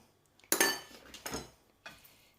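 Chopped onion and chicken kebab ingredients being mixed in a bowl, giving a few separate clinking, scraping bursts of utensil against dish with short pauses between them, close and fairly quiet.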